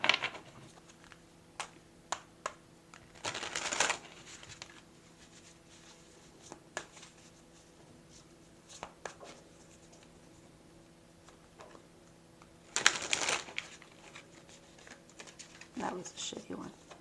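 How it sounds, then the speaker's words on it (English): Tarot cards being shuffled by hand in short bursts of rapid riffling and tapping near 3–4 s, 13 s and 16 s, with quiet soft clicks of card handling in between; no talking. "with all of that said, I'm going to shuffle."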